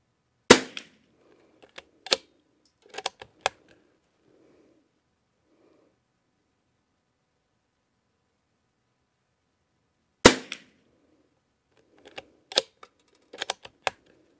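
CZ455 .22 rifle with a Lothar Walther barrel firing ELEY Match ammunition, sharp cracks with short pauses between them, a cluster early on and another after a long silence, each followed by faint clicks and clatter, no talking.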